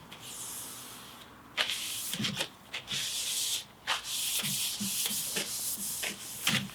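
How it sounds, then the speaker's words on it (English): A cloth makes repeated close, raspy rubbing strokes as it wipes wood stain along the grain of a wooden piece, each pass a short swish separated by brief pauses. "just do some last wipes along the grain"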